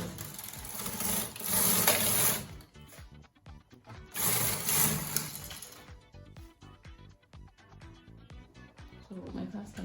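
Carriage of a Brother KH930 knitting machine sliding across to knit a row, giving two long whirring, rasping passes separated by clicks and clatter, close and loud, with speech at times.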